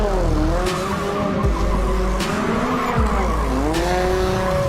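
A drift car in a professional drifting qualifying round spins its rear tyres to heat them, with a loud, sustained tyre squeal that rises and falls over a roaring engine, close and continuous.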